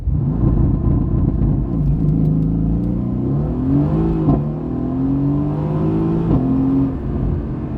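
A 2016 Mercedes-AMG GT with 462 hp accelerates hard, its engine rumbling loud and close with rising revs and a couple of quick gear shifts, no talk over it.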